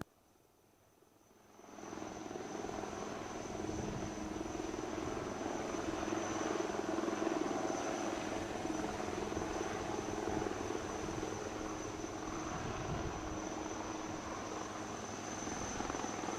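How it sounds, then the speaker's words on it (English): UH-3H helicopter flying over the beach at a Navy Day display in Visakhapatnam, a loud steady rotor and engine roar that rises after a quiet first two seconds and holds continuously, with a thin high whine running throughout. "you can also see the UH-3H helicopter providing air cover to the Marine Commandos as they embark upon the ALH once again"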